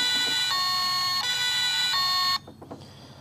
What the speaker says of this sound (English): There is a siren,